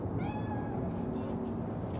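A cat meows in Cyberpunk 2077's Night City: one rising, wavering meow near the start, heard over a dense, steady bed of low ambient game noise.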